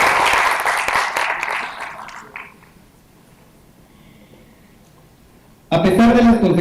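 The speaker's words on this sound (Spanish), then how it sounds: "Les pediría un aplauso y muchas gracias por estar aquí con nosotros." Audience applause rings out for an Amnesty International director at a panel on security and human rights in the Americas. It is dense and loud for about two seconds, then fades to a near-silent room before a voice starts speaking.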